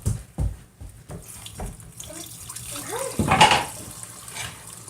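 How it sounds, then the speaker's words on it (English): Homemade all-purpose cleaner pours through a funnel into a bottle, a short liquid trickle and gurgle preceded by light handling knocks, close by and without talk. "this is ready to be poured into your bottle"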